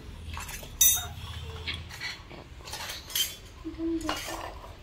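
Toy mini cooking pots (kadai) clink together, light metallic taps and scrapes scattered irregularly at close range, fairly quiet.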